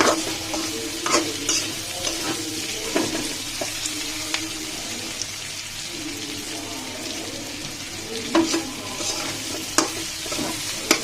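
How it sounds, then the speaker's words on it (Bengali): Okra and potato sizzle in a pan while a spoon stirs them, with a steady frying hiss broken by repeated scraping and clinking strokes close by. "নেড়ে চেড়ে রান্না করতেছি"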